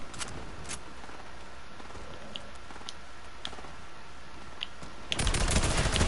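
Video game gunfire, a fast burst of broadband rattling shots erupting loudly near the end after scattered faint pops over low ambient game noise.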